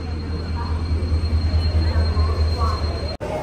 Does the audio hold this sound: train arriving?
yes